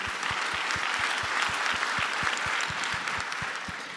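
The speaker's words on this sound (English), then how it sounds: "Give yourselves a round of applause" Audience at a startup competition finals applauds its founders: sustained, dense clapping from a crowd, steady throughout, with a regular low thump beating underneath.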